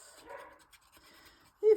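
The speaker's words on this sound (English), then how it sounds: "If you hear my dog, he is just seeing the postman outside." A dog alerts to the postman outside with one short, sharp bark at the very end, preceded by quiet indoor rustling and faint breathy sounds.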